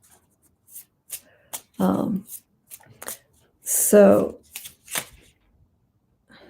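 Tarot cards are shuffled by hand in several quick, crisp bursts of riffling and slapping, close to the microphone, with a person briefly talking between them.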